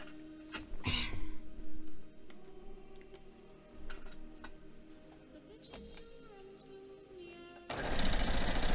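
A sewing machine stitching a quilt block, a faint mechanical whir with light ticking, broken by a short pause and a louder burst of running at the end.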